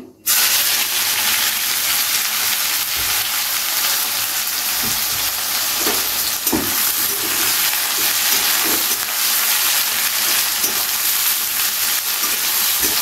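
Chopped onion frying in hot oil with bay leaves and a dried red chilli for chicken darbari, a loud, steady sizzle with occasional stirring scrapes throughout, no talking.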